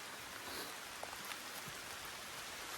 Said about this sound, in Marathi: मंडळी आवाज ऐकू येत असेल, पावसाने आगमन केलंय.